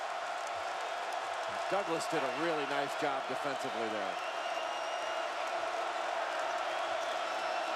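A basketball crowd roars steadily through a Michigan vs Ohio State men's game in Ann Arbor, fans on their feet, while a commentator talks over the dense arena noise.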